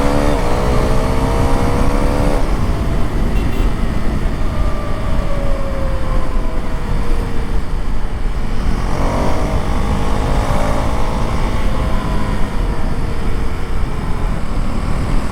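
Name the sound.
Husqvarna Svartpilen 401 motorcycle engine riding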